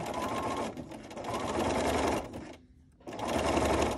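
A sewing machine stitches quilt fabric in close, loud bursts of rapid whirring, pausing briefly between runs with one short silent stop before the final burst.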